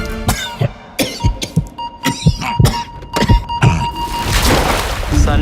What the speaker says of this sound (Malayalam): ഇത് പ്രശ്നമുള്ള ചുമയൊന്നുമല്ല.